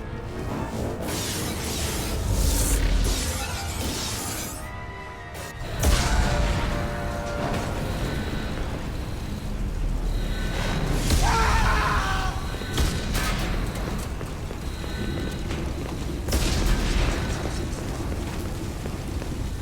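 Explosions battering a starship in the video game Mass Effect 2, heavy booming blasts and crashing impacts rolling over a continuous rumbling din, with several louder bursts spaced through the scene.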